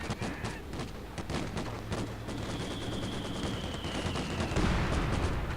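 Sustained machine gun fire in the Company of Heroes 2 real-time strategy battle, a steady rattle of rapid shots mixed with other battlefield gunfire, loud and continuous throughout.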